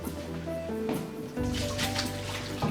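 Tap water running steadily into a kitchen sink, rinsing food in cold water while cooking lemongrass cod, a continuous splashing flow that grows louder and fuller partway through.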